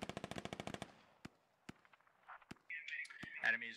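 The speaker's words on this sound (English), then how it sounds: "Tracer fire coming out" Automatic gunfire with tracer rounds in the military shooter game Squad, a rapid burst of close shots followed by scattered single cracks and distant pops, then radio-style voices talking.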